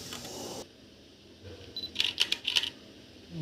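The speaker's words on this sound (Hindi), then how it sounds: "अब चलिए हम कुछ फ़ोटो क्लिक करके दिखाते हैं।" A Canon EOS 200D II DSLR fires its shutter several times in quick succession, giving sharp, close mechanical clicks against a quiet room.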